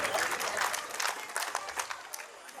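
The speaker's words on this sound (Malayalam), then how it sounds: "നമുക്ക് നല്ലൊരു കയ്യടി നൈപുണ്യക്ക് കൊടുക്കാം." Audience at a residence association cultural meeting claps for Naipunya, a brief burst of dense, bright applause from a crowd with a light murmur of voices.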